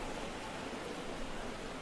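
Running water from a fountain in the video game Islands: Non-Places hisses and splashes as a steady, fairly soft wash of sound, even and continuous with no talking.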